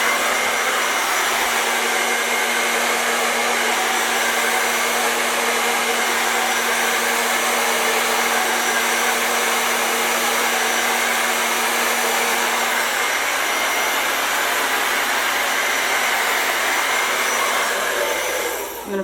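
Hair dryer blowing out acrylic paint in a fluid art pour: a loud, continuous airy roar with a steady tone runs unbroken for nearly twenty seconds, with no voices.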